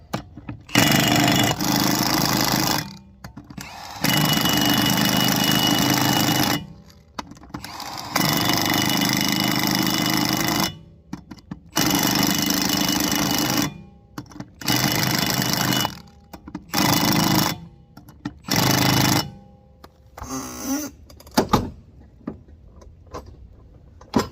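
Wheel nuts on a Range Rover Evoque are tightened by a power tool during a tire change, in several loud buzzing bursts of a few seconds each, separated by short silences, ending with a few clanks.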